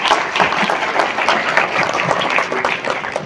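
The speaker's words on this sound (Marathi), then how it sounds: "एकदा जोरदार टाळ्या या ऐतिहासिक वास्तूसाठी" An audience inside the historic Bharat Mata cinema hall gives loud, continuous applause, a dense wash of many hands clapping at close range that holds steady throughout.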